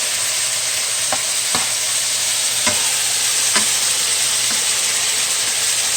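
Seasoned pork cooking in a pot for Dominican locrio, a loud steady hiss of frying with a few light knocks of stirring scattered through, close and without talk.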